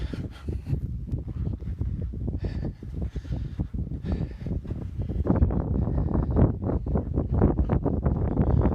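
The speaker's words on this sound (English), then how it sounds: "it's a little windy" Strong gusty wind on a beach at South Cape Beach, Cotuit, buffets the microphone with rough low rumbling, growing louder and steadier in the second half, with no talking.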